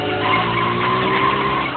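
A scooter engine revs steadily as the throttle is turned slowly, giving a loud, close, continuous whine with a strained, tire-squeal-like edge and no speech.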